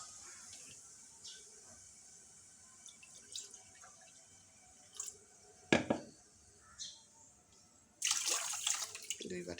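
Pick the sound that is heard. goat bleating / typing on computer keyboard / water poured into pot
water poured into pot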